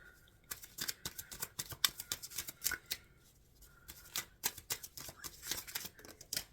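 A deck of tarot cards is shuffled up close, with rapid bursts of crisp riffling and slapping separated by brief pauses, quiet and without talk.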